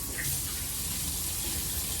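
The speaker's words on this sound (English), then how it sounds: "I'm going to clean my hands" Warm water runs steadily from a kitchen tap as hands are washed with soap, producing a continuous, fairly loud broadband splashing and hiss with no talk over it.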